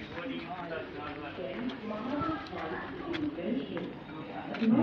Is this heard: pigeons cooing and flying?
yes